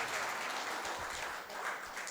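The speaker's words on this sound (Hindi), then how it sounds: "जोरदार ताली बजा के प्रभु की स्तुति करें।" A church congregation applauding in praise during a worship service, a steady wash of clapping from many hands, fairly distant and soft, lasting the whole moment.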